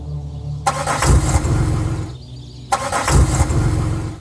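Car engine cranking over repeatedly without catching because of a dead battery, two loud grinding bursts of the starter separated by a short pause.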